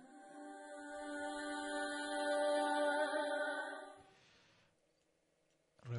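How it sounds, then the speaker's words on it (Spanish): A drum hit with a reversed reverb effect made in Cubase 5, a sustained tonal swell that builds and then cuts off sharply into near silence, ending with a brief attack. "Una reverberancia completamente invertida."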